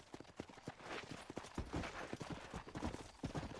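Horse hooves clip-clopping in the video game Red Dead Redemption, a quick, steady rhythm of close, crisp hoof strikes at a trot, fairly quiet and continuous without pauses.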